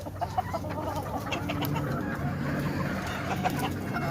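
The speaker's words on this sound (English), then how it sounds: "Get some of the hens." Hens cluck in a brood pen, with soft, scattered calls from several birds over a steady low background, fairly close and moderately loud, with no talking.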